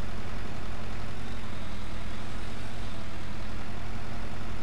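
A Steyr tractor engine runs steadily while reversing on a Belgian farm, a loud, constant low diesel rumble close by with no talk.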